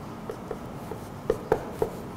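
Chalk or marker strokes on a classroom board during a maths lesson, a series of short, distinct taps and scratches spaced irregularly, fairly close and moderately loud over a quiet room.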